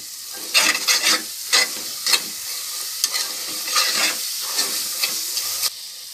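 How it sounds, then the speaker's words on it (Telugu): Masala spices for a chicken cooker biryani sizzle in hot oil while being stirred, with a steady frying hiss broken by repeated scraping stir strokes. Close and fairly loud, with no talking. "ఒకసారి మసాలాలు మొత్తం ఇలా కలిపేసుకోవాలి పచ్చివాసన పోయే వరకు."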